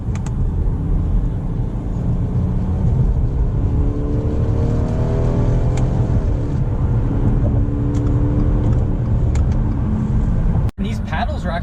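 A 2018 Subaru Legacy 3.6R pulls hard under acceleration, its engine drone rising in pitch through successive gear changes, loud and close from inside the car.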